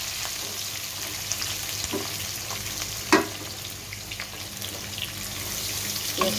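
Onion fries in hot oil with dry chillies and whole cumin for a beef tongue curry, a steady close sizzle with occasional stirring scrapes and clinks.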